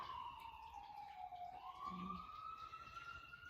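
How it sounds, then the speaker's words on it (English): Emergency sirens pass outside during a yoga session, a steady wailing tone sliding down and back up, moderately distant and continuous throughout. "the sirens just are going by right now"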